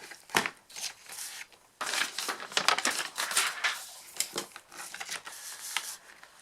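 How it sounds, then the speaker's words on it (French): Fold lines are scored into card paper for slimline Christmas cards, heard as bursts of dry scratchy scraping strokes, close and fairly loud, with short pauses between passes. "Après, je vais venir simplement marquer des plis"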